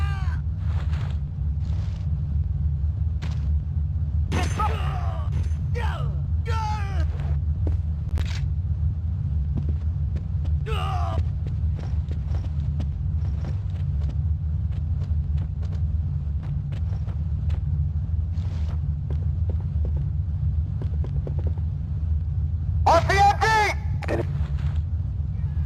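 Suppressive gunfire in the Ghost Recon video game: scattered sharp shots and bursts over a steady low rumble of battle ambience, with a few louder bursts near the end.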